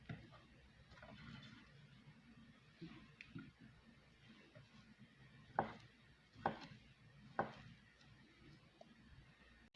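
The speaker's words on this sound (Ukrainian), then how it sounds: "Сардельки я почистила, я їх розріжу пополам. Ось так пополам. І наріжу такими кусочками." A knife cuts peeled turkey sausages into pieces on a board, giving three distinct, moderately close chopping knocks spaced about a second apart amid quiet kitchen rustling.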